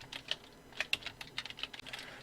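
Computer keyboard keys pressed for shortcuts while working in illustration software, a quick run of crisp, close clicks in an irregular rhythm, no talking.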